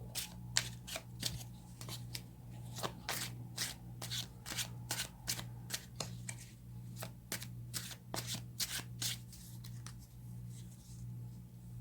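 A deck of tarot cards is shuffled close by, a quick run of crisp riffling flicks and taps repeating steadily over a low, constant background hum.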